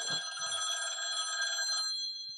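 A telephone bell rings in one continuous burst of bright metallic tones lasting under two seconds, then cuts off into silence as the call is picked up at a theater hotline.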